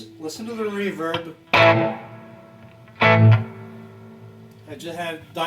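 Clean Telecaster chords through an IronHorse Heritage 1x12 combo amp ring out with a wash of amp reverb, a few strummed hits each trailing off into a long, spacious decay.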